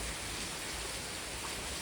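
Heavy rain pours down steadily during a Kolhapur monsoon, a dense, even hiss of falling water with no break or voices for the whole stretch.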